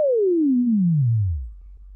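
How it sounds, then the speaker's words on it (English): A pure sine wave tone from an online music tool glides steadily downward in pitch from a mid hum to a deep low drone, clean and alone. "and the smoothness of the sine wave."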